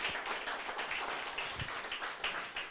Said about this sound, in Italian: Lo vogliamo accogliere con un applauso